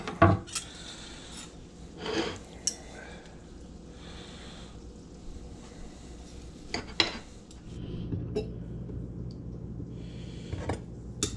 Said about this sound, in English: Let's cut into it.